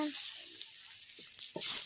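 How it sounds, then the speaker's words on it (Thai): Soft, steady sizzling of fish stir-frying in a wok with southern Thai curry paste, a few scrapes of stirring, faint and close, with a voice briefly audible underneath. "แล้วก็พัดให้พอสุกค่ะ"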